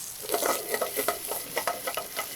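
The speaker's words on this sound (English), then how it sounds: "Add some fresh garlic to the pan. Finely diced." Finely diced fresh garlic sizzles in a hot pan with golden-browned shrimp for shrimp and grits, a steady close frying hiss broken by crackling pops and scraping stir strokes, with no talking.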